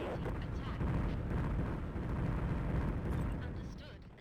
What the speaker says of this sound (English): Kind of wasting Polaris torpedoes on light interceptors